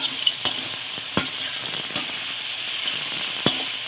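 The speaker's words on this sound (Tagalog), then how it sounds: "Pagsaw na natin." Ingredients for ginisang monggo, a Filipino mung bean dish with tomato, sizzle loudly in a hot pan, a steady close frying hiss broken by occasional sharp clicks and stirring scrapes.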